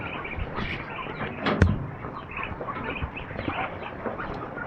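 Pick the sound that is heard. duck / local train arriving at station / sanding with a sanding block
duck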